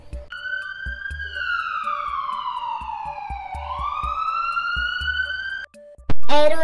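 A medium duty ambulance siren wails loud and close, a long sweeping tone that slides down and back up over several seconds, backed by a steady rhythmic pulse, before ending and giving way to a short burst of a different siren.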